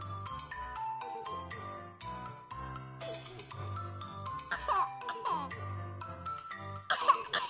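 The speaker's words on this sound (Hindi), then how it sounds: "देखो यहाँ दादी खांस रही है, मैं नहीं जाऊंगा अंदर।" A grandmother character in an animated Hindi comedy made in Sakura School Simulator coughs repeatedly in short bursts over steady background music.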